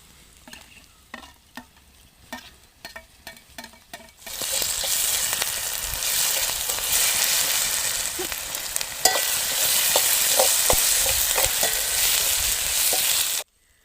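Ginger garlic paste drops into hot oil with curry leaves in a pan for village-style egg bhurji, starting with a few light scrapes and ticks, then erupting into a loud, steady sizzle with occasional spoon stirs over it.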